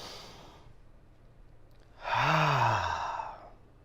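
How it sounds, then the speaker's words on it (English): A person takes a deep breath and exhales, a soft airy inhale followed by a louder, longer breathy sigh out, close and alone without talking. "I want you to take a deep breath and exhale deeply."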